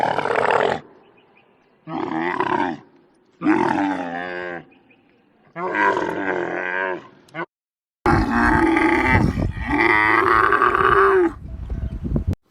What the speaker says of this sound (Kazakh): Бұл түйе. Түйе боздайды.